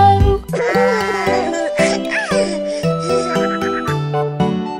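Sheep bleating sung in a children's farm song, with voices imitating the baa calls over a steady, loud musical accompaniment that runs without pause.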